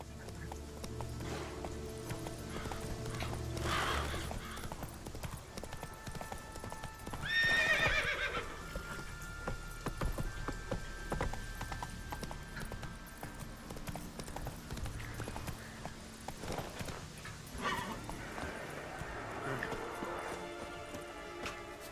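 Roach, the horse in The Witcher 3, galloping: a steady clatter of hooves runs throughout with a loud whinny partway through, over a dense game soundscape of wind and ambient music.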